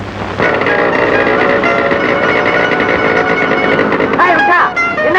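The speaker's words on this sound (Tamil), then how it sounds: "என்ன நீ ஸ்கூட்டர் ஓட்டுற?" A scooter engine runs with a continuous buzzing rattle for several seconds, loud and close, before tapering off near the end amid a brief shift in sound.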